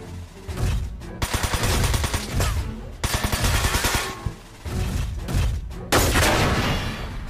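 Rifle fire in the PlayStation 2 game Front Mission 4 comes as dense, rapid bursts of loud gunshots that repeat with brief gaps, with no talk.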